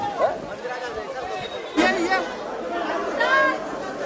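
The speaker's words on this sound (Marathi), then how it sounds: "आज पण खूप गर्दी आहे" Crowd chatter from a busy temple queue on a rainy pilgrimage route to Bhimashankar, many voices overlapping into a steady murmur, with a few nearer voices rising briefly above the babble.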